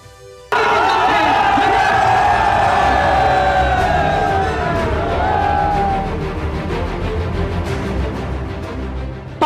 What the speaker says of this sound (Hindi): पाकिस्तान के बड़े नेताओं की रैली में लाखों लोगों की भीड़